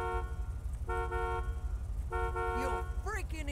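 A car horn honking in the video game GTA 5: several short toots in separate bursts over low engine rumble, followed by rising and falling tones, with someone talking over it.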